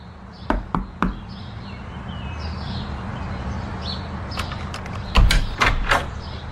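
Knocks on an apartment door: a quick set of three raps near the start, then a louder cluster of several knocks near the end, with quiet room tone in between.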